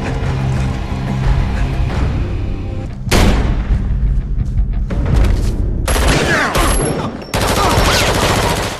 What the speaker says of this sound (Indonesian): Aksi saling tembak pun terjadi